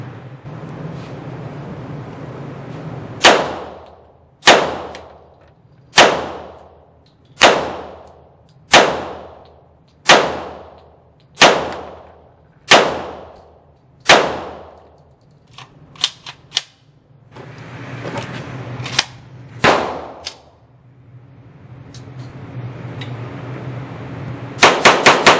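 Gunfire from a VMAC45 .45 ACP MAC-10 style pistol: a string of sharp, loud, evenly spaced shots indoors, then a quicker uneven burst of further shots, each with a short ringing decay.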